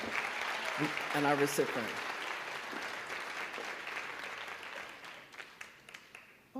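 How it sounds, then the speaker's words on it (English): An audience at a youth poetry slam breaks into a steady round of applause, loud at first and thinning toward the end, while a speaker talks briefly over the clapping. "Another nice round of applause"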